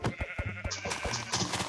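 Several sheep in Minecraft bleat in short, clear calls, one after another, close and fairly loud.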